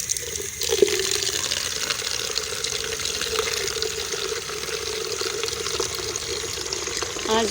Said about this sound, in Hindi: तो पहले हम पानी भर लेते हैं।